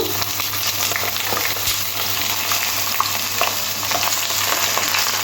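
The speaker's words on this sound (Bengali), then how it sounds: "কেটে রাখা আলুগুলো তেলের মধ্যে দিয়ে দেবো দিয়ে লাল লাল করে একটু ভেজে নেবো সাথে বেগুনের টুকরোগুলোও ভেজে নেব" Potatoes and eggplant pieces frying in hot oil for a Bengali bata fish curry give a steady, close, dense sizzle that runs unbroken for the whole stretch, with no voices.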